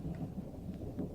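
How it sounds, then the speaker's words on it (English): Low rolling thunder rumbles through a storm in a radio play, a faint continuous murmur with a soft patter of rain and no voices over it. "Sorry, I can't hear. It's thundering this end."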